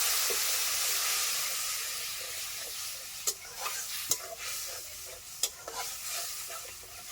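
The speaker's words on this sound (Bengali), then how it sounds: "একটু জল দিয়ে মশলাটাকে ভালো করে কষিয়ে নেবো" Spice masala with a splash of water being stir-fried in a pan for a pork curry, a steady close sizzle broken by a few sharp scraping clicks of a spoon against the pan, with no voices.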